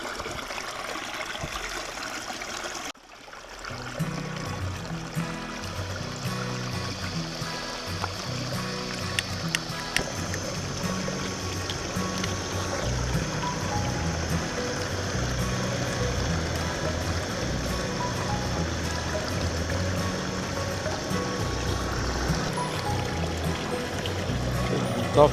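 Stream water trickles and burbles steadily in a rain-soaked forest as it is scooped into a container for boiling coffee, a continuous close watery wash with a brief pause and occasional small knocks of handling.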